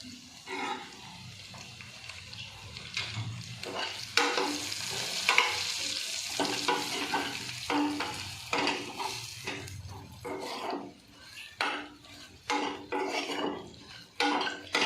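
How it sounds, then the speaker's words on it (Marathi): Eggplant stir-fries in hot oil in a pan for Maharashtrian masala vangi, with a soft sizzle under repeated close scrapes and clinks of a spatula against the pan, coming in irregular bursts. "थोडंसं तेल ॲड करून त्या तेलामध्ये आपले वांगे छान गरम परतून घेऊयात।"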